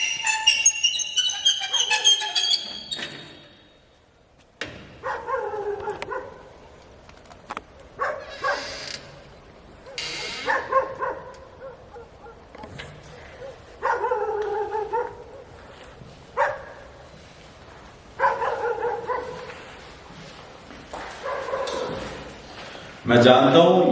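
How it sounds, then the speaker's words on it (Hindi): Dogs bark intermittently outside the Red House, a reputedly haunted house in Uttarakhand, with someone talking over them through most of the stretch. "और कुत्ते भौंक रहे हैं क्योंकि वो भी डिस्टर्ब हो रहे हैं।"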